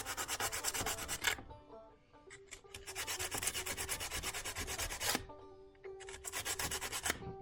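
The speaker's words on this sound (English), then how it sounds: "I'm going to sand these connection points." Corroded connection points on an automotive fuse panel are sanded by hand, with close rhythmic scratchy strokes in two long runs separated by a short pause.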